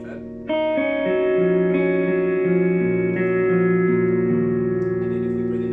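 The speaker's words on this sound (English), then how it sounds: "got it on a plate reverb" A Strymon BlueSky reverb pedal set to plate reverb on an electric guitar, with sustained chords blooming into a smooth, lingering wash of plate-style reverb that plays loud and steady throughout.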